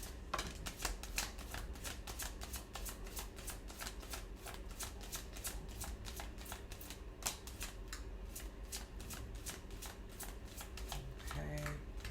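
Tarot cards shuffled by hand in quick riffling bursts, a rapid run of crisp flicks lasting several seconds, close and clear, with soft talk at times underneath.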